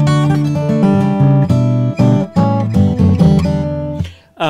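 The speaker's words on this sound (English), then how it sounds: "What you are hearing is direct from my guitar into the sound." Gibson J45 acoustic guitar fitted with Elixir strings and recorded direct from its pickup, a loud, clear sequence of strummed and plucked chords with short breaks, no voices.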